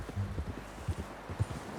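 Video game horse hooves clip-clop at a steady walking pace on firm ground in Red Dead Redemption 2, evenly spaced thuds close by over a soft outdoor hiss.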